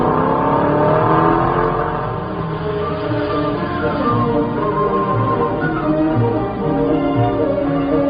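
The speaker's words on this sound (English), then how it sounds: "This is the winning car making its final pit stop." The race-winning car at Le Mans roars during its final pit stop, a dense, loud engine drone with some revving. It fills the whole stretch without talk.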